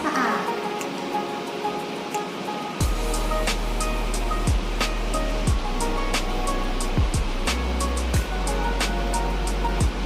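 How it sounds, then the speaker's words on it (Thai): Eyeglasses rinsed under running water after an ultrasonic cleaner: a steady, loud gush of flowing water continues throughout, with intermittent clicks and a low hum joining partway through. "จากนั้นนำแว่นล้างน้ำให้"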